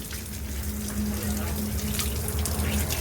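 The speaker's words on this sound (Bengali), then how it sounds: "এখানে কলের জলে স্নান করছি এখন।" Steady tap water runs continuously during a bath under a faucet at the Mahakumbh 2025 pilgrimage, a constant close splashing hiss with no break and no voices.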